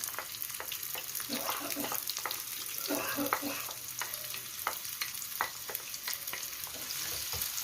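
Onion frying in a mix of oil and ghee for a traditional Egyptian fatta, a steady close sizzle with crackling pops and occasional stirring.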